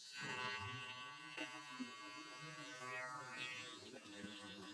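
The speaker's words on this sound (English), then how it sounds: "Next step, you grab your shaver and shave halfway." An electric shaver buzzes close up while shaving hair during a skin fade haircut, a steady droning hum that shifts slightly in pitch as it moves over the head, with a few small clicks.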